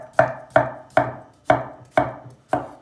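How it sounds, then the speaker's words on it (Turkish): Potatoes are chopped with a knife on a board in six sharp, evenly spaced strokes, close and crisp, with no talking. "Patatesleri çok ince doğramayacağız."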